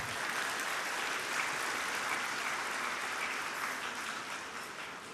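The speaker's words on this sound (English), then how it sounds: "Please join me in giving them a round of applause" A banquet audience at an anniversary gala dinner applauds the staff, a dense, even wash of clapping from many hands sustained throughout and tapering slightly at the end.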